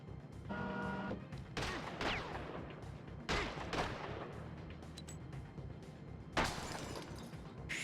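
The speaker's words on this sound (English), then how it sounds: "I shot it" Several sharp pistol shots crack out in a PS2 video game, spaced a couple of seconds apart against a low rumbling game background.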